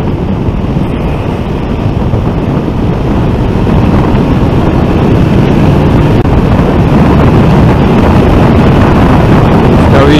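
A Yamaha Niken three-wheeled motorcycle engine drones steadily after a downshift, loud and continuous throughout, heavily mixed with strong wind rush over the microphone while riding.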